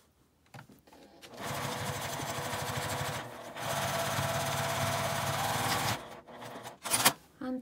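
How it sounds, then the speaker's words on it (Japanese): A sewing machine edge-stitches along a zipper on a fabric pouch, starting after a few handling clicks and running in two sustained bursts of rapid, even needle chatter, with a brief pause between and small clicks at the end. "端ミシンをかけます。"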